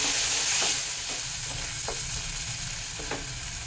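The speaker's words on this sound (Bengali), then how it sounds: "এখন এটাকে তেলের মধ্যে একটু ভালো করে নেড়ে দিচ্ছি।" Drumstick paste stirred in hot oil gives a close, steady frying sizzle. A spoon scrapes the pan in several slow strokes over it, and no one speaks.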